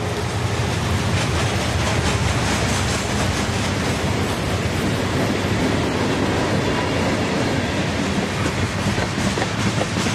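A CSX freight train passes at Manchester on the Fitzgerald Sub, with two trailing Dash 7 locomotives, one an ex-Union Pacific six-axle unit. Loud, steady rumble with continuous clickety-clack of railcar wheels throughout.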